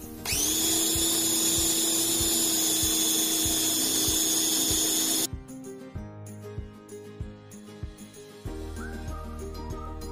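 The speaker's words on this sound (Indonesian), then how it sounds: "Namun kalau saya haluskan menggunakan chopper ini, tahunya akan halus banget" An electric chopper grinds tofu without water, its high motor whine running loud and steady for about five seconds before cutting off, followed by softer knocks and a second short burst of lower whirring.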